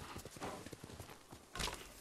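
Horse hooves clip-clopping at a steady walking rhythm in Ghost of Tsushima, fairly close and continuous, ending with a louder burst of movement and a faint snort-like noise.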